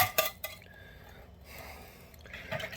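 Pot roast ingredients are stirred together in a dish: sharp utensil clinks against the dish at the start, then soft, wet, sloshing mixing sounds.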